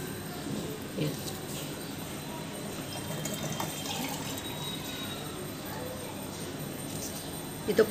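Coconut water poured from a coconut into a large steel glass, a soft trickling and splashing stream with a few louder knocks near the end, while people talk quietly nearby.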